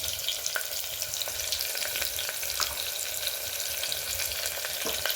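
Crushed ginger, garlic and green chili paste sizzles steadily in a hot oil pan for misal usal, a constant close frying hiss with a few small pops and stirring ticks.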